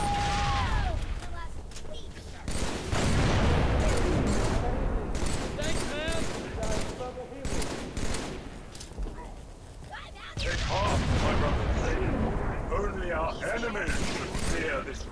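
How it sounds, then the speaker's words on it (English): Gunfire rattles in Halo 3 on a legendary-difficulty run of the mission The Storm, with occasional heavier bursts that could be grenade blasts and frequent shouting voices over the fighting. "Ah, that's a grenade!"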